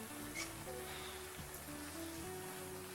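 Steady rain falls with a dense, hissing patter, while faint tonal music plays quietly underneath.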